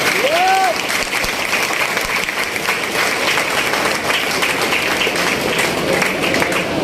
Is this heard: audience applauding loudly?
yes